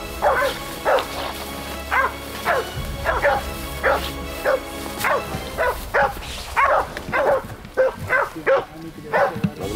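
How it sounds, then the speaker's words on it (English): A pack of hunting dogs bark and yelp in a steady, rapid series of loud, close barks while chasing an angry wild boar, with a low rumble of movement underneath. "Constantly following the spinning, crashing mess of dogs and angry wild boar."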